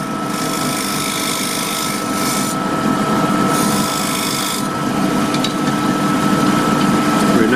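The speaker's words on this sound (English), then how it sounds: "We now use the gouge to make the shape, to make that shape there" A woodturning gouge cuts a wooden base for an Eaton table lamp on a lathe, giving a steady, close scraping rasp over the motor hum that continues throughout without a break.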